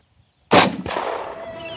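A single loud gunshot fired during a hunt for wild pigs cracks out after near silence, followed by a rolling echo and a second sharp report that trail off into a long decaying tail.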